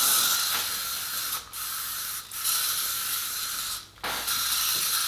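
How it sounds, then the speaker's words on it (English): Hairspray misted onto curled wig hair: loud, close hissing bursts broken by three short pauses as the can is released and pressed again, with no talking. "now I'm going to apply some hairspray to my hair just to keep the curls in place"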